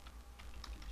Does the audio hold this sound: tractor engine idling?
no